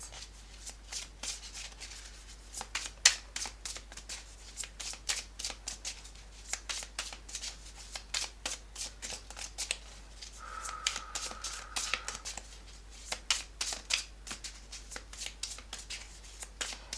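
Tarot cards are shuffled by hand in a quiet room, a soft, steady series of papery riffles and flicks that continues rhythmically throughout, with no talking.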